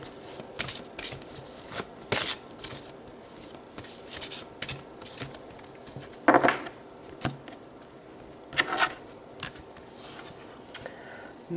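Tarot cards being shuffled and a court card drawn: soft papery riffles and rubbing with sharper slaps and flicks in irregular bursts, close and fairly quiet, with no talking.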